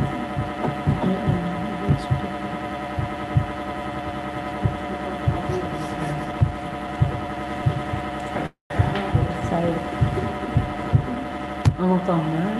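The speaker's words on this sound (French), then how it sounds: "Le problème de bruit, c'est comme le bruit du ventilateur." A steady fan-like hum with a layered harmonic drone fills a room throughout, broken by regular low thumps about once a second and one brief dropout near the end, with no talking.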